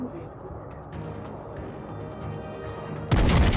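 Warship guns in World of Warships: Legends, a low rumbling battle bed under a talking voice, then a sudden loud blast near the end.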